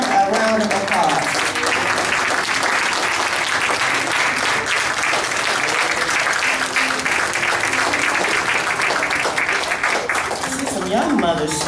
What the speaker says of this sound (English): Look around and give everyone a round of applause.